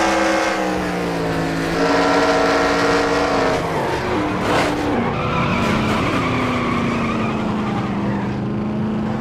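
Race cars in a NASCAR-style racing video game at Texas skid and wreck, with loud, sustained tire squeal over droning, wavering engine tones that shift in pitch for about nine seconds.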